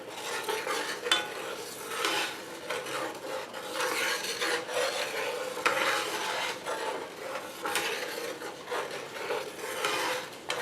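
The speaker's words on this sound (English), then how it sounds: "Stir that around and it'll back the heat down on that" Beef Wellington filling is stirred around a hot pan, giving continuous scraping and rubbing with a light sizzle, loud and close, with no talking.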